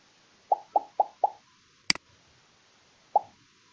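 Short cartoonish pops from a Scratch game, four in quick succession, then a sharp click and one more pop after a pause, crisp and isolated.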